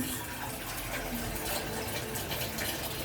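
Water pours into a pot holding about one and a half kilos of rice, a soft steady gushing that is fairly faint and continuous, with no voices.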